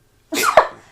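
A single sharp sneeze close to the microphone, a breathy intake followed by an explosive burst that fades quickly, with no talking.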